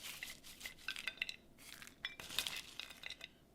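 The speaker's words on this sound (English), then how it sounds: "You can hear how crispy they are." Crispy fried beef chicharrones handled on a plate for tacos, producing light crackling and clinking taps in scattered quick bursts, close and fairly quiet.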